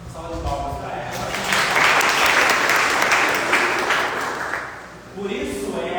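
An audience applauds a speaker at a lecture on community and its challenges in the modern world, with sustained, dense clapping that swells, holds for several seconds and then fades as a voice resumes.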